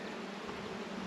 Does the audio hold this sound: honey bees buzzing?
yes